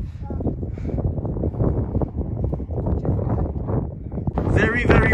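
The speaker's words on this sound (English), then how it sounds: "Very, very windy, so you might not be able to hear me on this clip" Strong wind in the Lake District buffets the microphone in a steady, roaring rumble, with a voice talking underneath that is partly drowned out.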